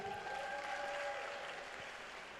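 A crowd at a beard and moustache championship applauds and cheers for a contestant, dense clapping that holds steady and fades slightly toward the end.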